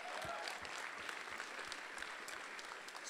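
Crowd at a League of Legends esports regional final applauding, a dense roar of clapping with some muffled thumps underneath, steady and sustained across the whole stretch.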